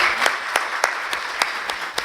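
Audience applause at a poetry recital: a steady wash of clapping with sharper individual claps standing out at a regular, rhythmic pulse, sustained and moderately loud throughout.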